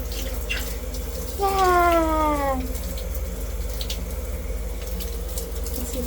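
Steady water running from a tap fills the background continuously, while a short rising-then-falling animal cry, like a cat's meow, cuts in briefly.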